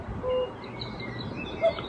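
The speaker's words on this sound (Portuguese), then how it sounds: "Barulho de pássaros cantando." Bird song from a night lamp's nature-sounds mode: soft, sustained chirps and whistles, steady and quiet, with one brighter call near the end.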